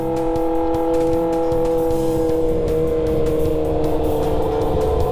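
Loud, steady engine drone with a rising pitch, like a motorbike revving up continuously, close by and filling the whole stretch.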